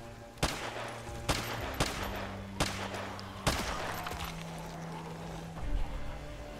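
Pistol shots ring out one at a time in the zombie survival game Project Zomboid, five sharp cracks spaced about a second apart over a steady background hum, with no talk.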